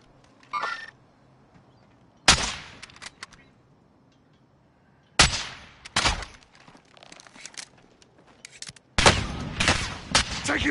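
Several sharp bursts of automatic gunfire in Call of Duty Warzone Resurgence, separated by quiet gaps, with a long sustained volley at the end; close and loud, no talking.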